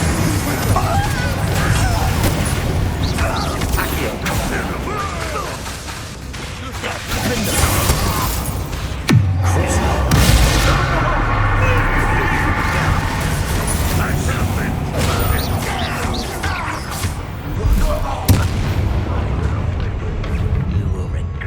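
A Bombarda explosion spell goes off during a Hogwarts Legacy fight: a sudden blast with a deep thump midway, surrounded by constant combat noise while voices talk throughout.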